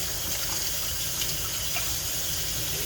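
Water runs steadily from a tap while a coffee pot is rinsed out at a sink, a continuous close splashing rush with no talk.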